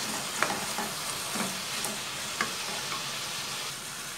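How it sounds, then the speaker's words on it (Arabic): Sliced onions being stirred with meat in a pot, a steady close sizzle with a few sharp scraping ticks of the spoon against the pot, no talking. "بقلب البصل كده مع اللحمه"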